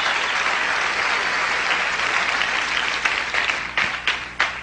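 A church congregation applauds, dense sustained clapping from many hands that fills the room and then thins into a few separate claps near the end.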